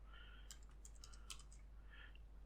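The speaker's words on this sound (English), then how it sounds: "if I type in my else statement now" Typing on a computer keyboard: a short burst of soft, quiet key clicks in quick irregular rhythm, with a pause before a few more taps, no talk.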